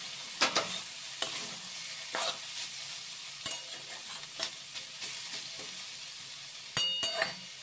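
Bottle gourd peel frying in a pan while being stirred, a soft steady sizzle broken by sharp scraping clicks of the spatula against the pan at irregular intervals, close but fairly quiet.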